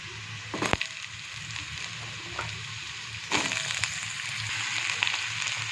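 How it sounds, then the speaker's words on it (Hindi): Sliced potatoes fry with onions and cumin in hot oil in a pan, a continuous close sizzle with occasional scraping stirs and small pops, no talking. "आलू को मु एठी 2 मिनिट पर्यंत फ्राए करछि"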